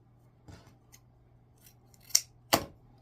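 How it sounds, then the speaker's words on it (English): Scissors snip through folded deco mesh at an angle for a wreath: a few light clicks, then two sharp, close cuts in quick succession against a quiet room. "fold them all in half, cut up at an angle."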